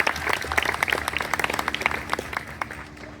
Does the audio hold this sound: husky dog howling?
no